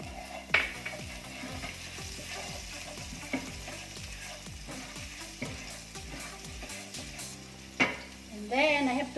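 Chopped garlic sizzles and crackles in hot oil left over from frying chicken wings, a steady close frying hiss with repeated stirring scrapes and a couple of louder clatters.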